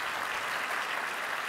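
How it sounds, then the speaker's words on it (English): Applause from a live audience at a talk show recording, an even, continuous wash of many hands clapping, moderately soft and with no voices over it. "That's worth a clap."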